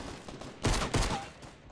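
A short burst of gunfire in Fortnite Battle Royale played online on Xbox One, with two loud broadband blasts close together over busy game noise.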